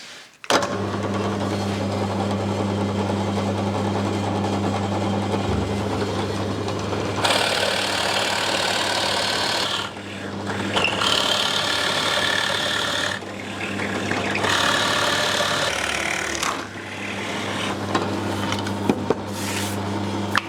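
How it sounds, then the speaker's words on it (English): A drill bores holes with a 30mm Forstner bit in a woodworking workshop while pieces are cut for push blocks. A steady motor hum runs throughout, with loud cutting bursts in several separate passes. "next thing I want to do is drill out all 4 holes with our 30mm Forstner bit."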